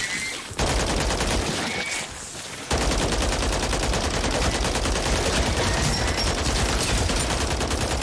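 Shatterblast gunfire in Call of Duty: Modern Warfare 3 rattles in long, loud, dense bursts, broken by one brief lull before sustained rapid fire resumes, up close and dominating the scene.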